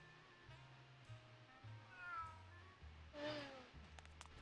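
Cats meow repeatedly at the cat races in the video game Grim Fandango, several rising and falling cries layered over a steady low game music loop, with one louder, brighter yowl near the end.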